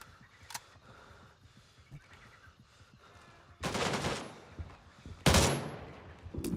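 Video game gunfire erupts in two loud bursts of rapid automatic shots, separated by a quieter stretch of faint ambient noise and a few isolated cracks.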